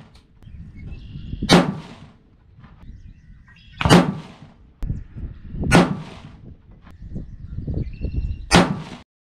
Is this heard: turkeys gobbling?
no